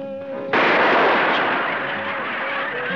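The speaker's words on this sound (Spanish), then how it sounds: "No vuelva a disparar, amigo, hasta que yo se lo ordene." A single sharp cartoon pistol shot cracks out loud and close, then decays into a long rumbling echo, with faint music beneath.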